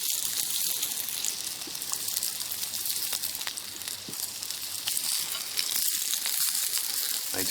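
New York steaks and a cutlet sizzle on a hot grill, a dense, steady crackle of fat and juices that holds loud and even throughout with tiny pops scattered through it and no talk.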